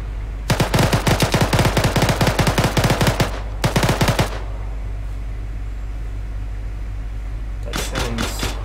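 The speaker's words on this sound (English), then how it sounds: "Is that the tank or is that air support? Ah, oh, it's the tank, I think." Rapid automatic gunfire from a tank in a video game battle, loud sustained bursts of repeated shots, then a shorter burst, a pause and a brief final burst.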